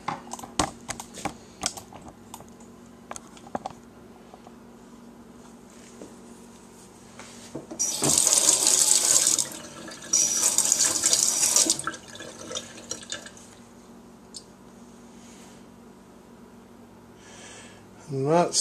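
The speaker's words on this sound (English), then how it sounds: "Let's rinse it off a little bit." Tap water runs over a clay-coated blade being rinsed after heat treatment, a steady close splashing that comes in two bursts, with quieter handling clatter before and after.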